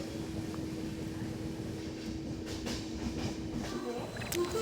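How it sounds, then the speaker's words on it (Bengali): A passenger train at Cuttack starts moving again after a stop, giving a steady low rumble with a faint sustained hum and occasional light rattles. "ট্রেন কিছুক্ষণ দাঁড়ানোর পর আবার চলা শুরু করলো"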